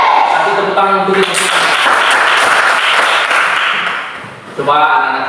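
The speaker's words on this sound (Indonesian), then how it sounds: "Kasih tepuk tangan untuk kita." Pupils in a classroom clap together for a few seconds, a busy patter of hands, with voices talking before and after the burst.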